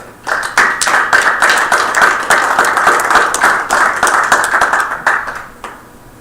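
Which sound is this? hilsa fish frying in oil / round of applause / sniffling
round of applause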